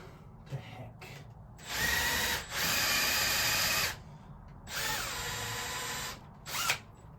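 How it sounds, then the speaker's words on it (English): A Milwaukee cordless drill whirs in loud, near bursts of about two seconds each, with a short ratcheting catch between runs, during arm chair reupholstery work. "Milwaukee gods were nice to me and let me do a couple more drills"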